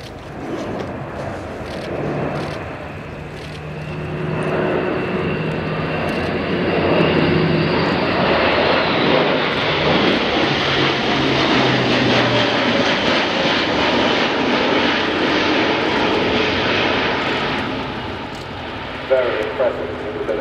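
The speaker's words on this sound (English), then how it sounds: "This is one of the Airbus test aircraft." Airbus A400M Atlas test aircraft flying at the RIAT air show, its propeller engines roaring loudly and continuously with a slow swell and fade as it passes, a commentator talking over the sound throughout.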